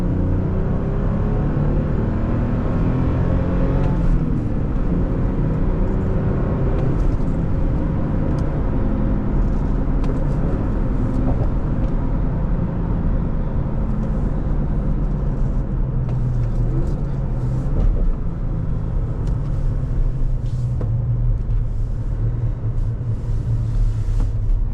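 Steady, loud engine rumble from inside a 2019 Toyota Tacoma TRD Sport V6 manual pickup, with a low drone rising gradually in pitch as it accelerates in second gear, no voices.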